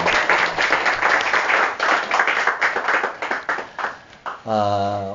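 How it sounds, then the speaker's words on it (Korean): Members of a Korean congregation at a Sunday afternoon church service give a round of applause, brisk clapping that rises and falls in uneven bursts before tapering off, after which a single voice begins speaking. "사랑의 마음을 담아서 박수로 감사합니다."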